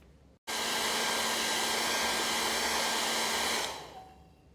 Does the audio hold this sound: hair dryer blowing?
yes